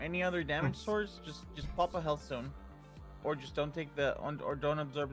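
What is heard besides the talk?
No everyday noise stands out behind the speech.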